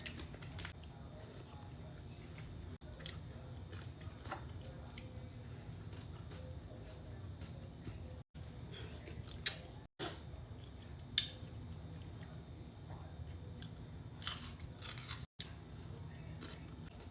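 Deep-fried salty fish with spicy vinegar sauce being chewed up close, quiet and intimate, with a handful of crisp crunchy bites and soft mouth sounds scattered over a low room hum.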